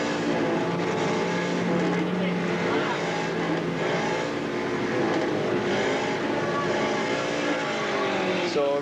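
Classic race cars, among them a Mini, pulling away at the start of a Group 1 handicap race at Wallerfield, Trinidad, with loud, continuous engine roar and revving throughout under a commentator's voice.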